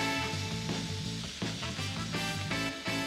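Squash, eggplant and cherry tomatoes with thyme sprigs and a bay leaf sizzle in a pan, a faint, steady frying hiss with tonal background music over it.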